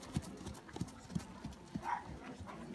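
A four-year-old gelding ridden at a riding stable clip-clops with steady hoofbeats at moderate distance, a faint rhythmic thud under a quiet outdoor background.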